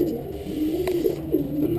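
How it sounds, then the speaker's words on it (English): A pigeon or dove, among a keeper's flock of fancy pigeons including pink lace, cream bar, black lace and red check birds, coos steadily in soft rolling pulses, close and moderately loud with no talk. "I love this bird."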